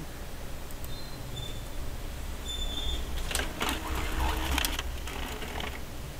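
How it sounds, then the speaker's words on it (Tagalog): Epson printer printing a test page after a deep head cleaning: steady mechanical whirring with a busier, louder stretch of clicking and carriage movement in the middle, no talking. "So ngayon i-print natin ulit."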